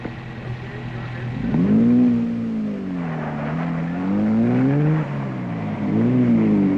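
Big rally cars, a Hillman among them, arrive and drive past on the 1962 East African Safari, engines droning and sweeping up and down in pitch as they accelerate and change gear, fairly close and continuous.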